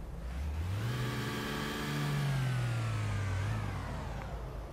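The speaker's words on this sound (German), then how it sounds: "läuft der Motor." Audi R8 Spyder engine runs in City Car Driving, a smooth mid-pitched hum that rises as it revs, then eases down, close and steady without voices.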